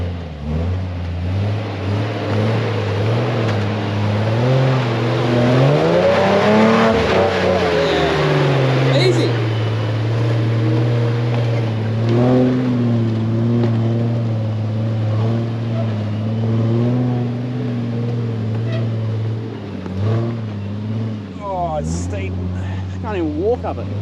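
Off-road 4WD, a Nissan Patrol in the Victorian High Country, revs as it climbs a steep rutted dirt hill; a steady loud engine drone rises and swells mid-climb, with people talking over it near the end.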